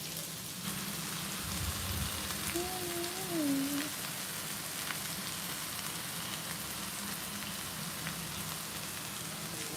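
A constant crackling sizzle of fish frying in hot oil with curry leaves fills the scene, steady and close, with a faint whistling tone briefly rising in the middle.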